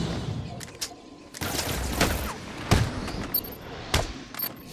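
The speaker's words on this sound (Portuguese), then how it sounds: "bomba de fumaça ali" A smoke bomb goes off during combat in Batman Arkham City, with a sharp burst and hiss among repeated percussive thuds, impacts and hits from the game's fight noise.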